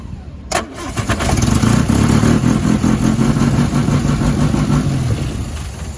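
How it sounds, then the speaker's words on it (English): A 1966 Triumph TR4A engine with no exhaust system fitted cranks, catches and runs, the start followed by a loud, raw, rough idle that stays close and steady to the end. "As you can tell there, it does need that exhaust"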